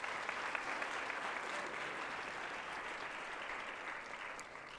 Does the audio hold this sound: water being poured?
no